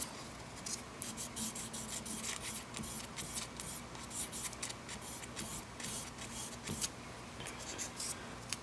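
Fine 2000 grit sandpaper rubs a guitar nut on a 2003 Mexican-made Fender Stratocaster, giving a soft, steady scratchy hiss in quick repeated strokes, close up and fairly quiet.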